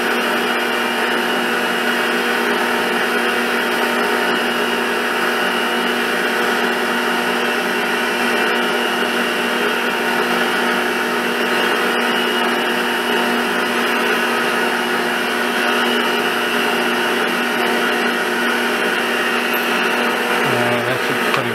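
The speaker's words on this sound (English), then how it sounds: "This drill is a lot more stable than the previous one." Continuous loud drilling of a pilot hole into metal, a constant machine whine with a slight change in tone near the end.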